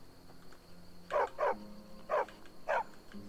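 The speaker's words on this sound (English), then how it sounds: "There's a dog." A dog barking in a video game: four sharp barks in an uneven rhythm, two close together and then two more spaced apart, over a quiet game background, with no voices.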